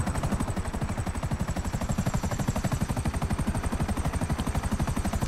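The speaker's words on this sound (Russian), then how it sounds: "впереди вертолет, вертолет впереди" A police helicopter in GTA 5 Online thumps close and loud, its rotor beating in a fast, even rhythm with no talk.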